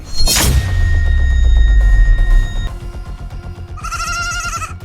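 Several goats bleat in sharp, harmonic cries, starting with a loud burst and then a wavering, repeated bleat near the end, over a low booming thud early on and a continuous background bed.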